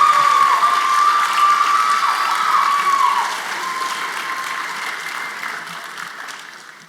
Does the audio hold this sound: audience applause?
yes